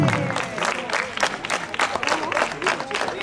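Applause for a school pétanque team at an awards ceremony: a crowd claps in a dense, continuous patter, mixed with scattered cheers and voices.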